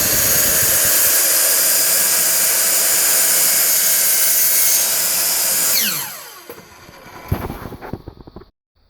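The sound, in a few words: chop saw cutting a wooden dowel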